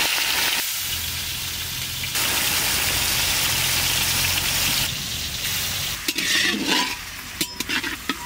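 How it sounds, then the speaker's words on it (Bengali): Fish fry in white oil in a hot kadai, a continuous sizzling hiss with scraping stirs from a large spatula and some clinks of metal near the end. "মাছগুলো ভাজবো।"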